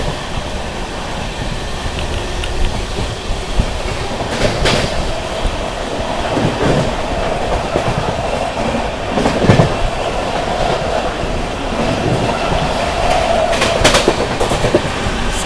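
The Sampoorna Kranti Express runs straight through Fatehpur station without stopping: a loud, close, continuous roar of rolling stock with rhythmic clickety-clack from the wheels and occasional sharper clanks as the coaches pass.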